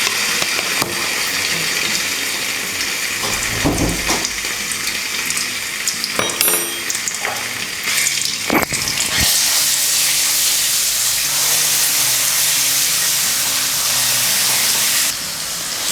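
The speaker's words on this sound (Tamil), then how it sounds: "கடாயில் எண்ணெய் சேர்க்க போகிறேன். எண்ணெயில் சீரகம் சேர்த்துக்கிறேன், இஞ்சி பூண்டு விழுது சேர்க்குறேன்" Cumin seeds and ginger garlic paste hit hot oil in a kadai and set off a loud, steady sizzle that carries on unbroken after a few clatters, close up and with no talking.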